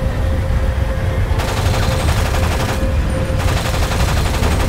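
Sustained loud gunfire from shooting zombies in GTA 5, a dense continuous rattle of rapid shots with no pauses, filling the whole stretch.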